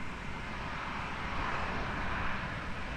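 Airliner taking off from runway 20 at Lisbon Airport, a steady broadband engine roar holding at an even level throughout, heard alone without voices.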